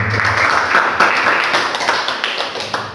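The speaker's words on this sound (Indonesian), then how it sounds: "Kita sekali lagi beri aplaus berian untuk Bung Ege." A live audience at a cultural performance broadcast in Sumba claps for Bung Ege, a steady, fairly loud round of applause that holds for a few seconds and then gradually thins out.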